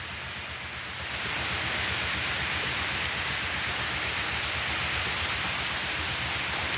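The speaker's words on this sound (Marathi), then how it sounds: "चला पोळ्याचा पाऊस आला" Steady rain hisses evenly without a break, a dense wash of noise with a couple of faint clicks.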